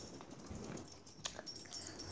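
A faint dog whimper in a survival video game, soft and brief, with a few small rustles and clicks in a quiet setting.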